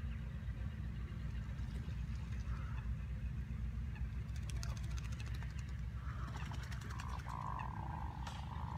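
Honking, nasal calls from male ducks with crests raised rise over a steady low rumble at WWT Slimbridge wetland reserve, a few scattered bursts then a longer drawn-out call near the end.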